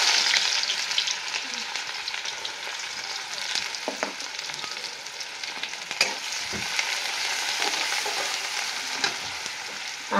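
Onion frying in a pan for a rural tanduljachi bhaji, a steady broadband sizzle running throughout with a few soft stirring knocks, close and fairly loud.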